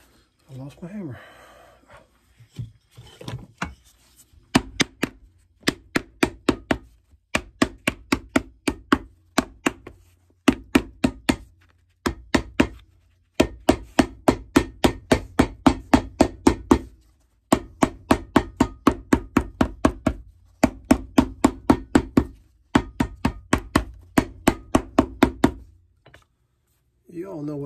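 Repeated hammer blows ring out in quick bursts of sharp, metallic strikes, grouped in rhythmic runs with brief pauses between them.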